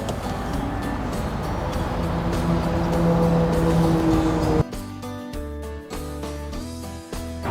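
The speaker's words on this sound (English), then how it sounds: "Now you're ready to pull the truck out from underneath the fifth wheel." Ford pickup truck with a B&W Companion fifth wheel hitch idles and drives out from under a fifth wheel camping trailer, a steady close engine rumble that shifts abruptly partway through to a more uneven, pulsing engine tone, with no talk.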